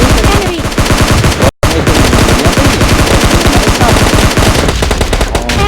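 Loud, rapid automatic gunfire from a video game, with dense bursts of shots continuing almost without pause apart from one brief gap.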